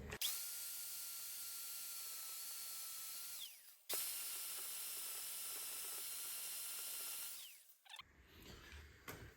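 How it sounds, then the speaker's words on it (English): An angle grinder fitted with a 120 grit flat disc grinds a metal brake caliper on a Honda CG125 cafe racer, two sustained high whining passes with a short pause between, then the motor winds down. "I've got my flat disc on the grinder here."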